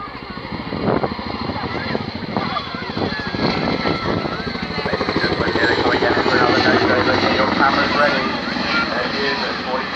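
An aircraft pulls up into a 30-degree wingover during an air display, its engine a steady loud roar that swells slightly throughout, with a voice talking over it.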